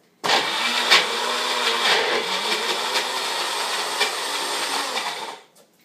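A blender whirs loudly and steadily for about five seconds, blending mole sauce with dates and nuts, its motor pitch wavering slightly before it cuts off abruptly.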